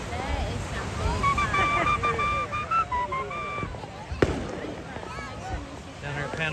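Fireworks over Panama City Beach on July 4th, crackling and popping with scattered bursts amid near, continuous crowd chatter and beach surf, one sharp loud report standing out.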